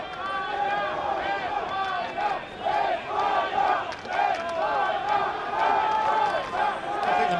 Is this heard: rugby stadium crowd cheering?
yes